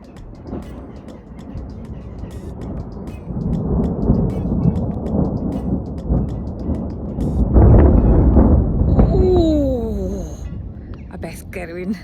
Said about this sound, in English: Loads of thunder.